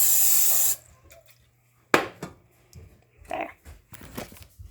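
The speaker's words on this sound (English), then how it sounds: "I'm just gonna spray some in it and then spread it with my fingers" Cooking spray bursts into a mold for gummy building blocks, a loud hiss at first, then scattered short spritzes and handling noises with gaps of quiet.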